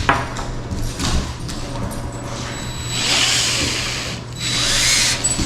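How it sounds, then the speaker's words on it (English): A power drill with a brad-point bit whines steadily as it bores a 3/8-inch hole into a wood block, its pitch rising and falling with load, close and loud. "what we're using to tap the wood for 3/8"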